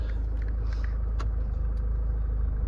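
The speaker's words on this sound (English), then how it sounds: "Just start the car up. Starts lovely." A Land Rover Range Rover Evoque 2.2 SD4 diesel, with 77,536 miles covered, idles steadily after starting, a close, low, even engine rumble with no talk.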